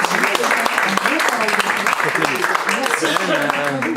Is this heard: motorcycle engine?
no